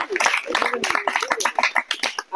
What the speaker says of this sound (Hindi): इसके लिए ताली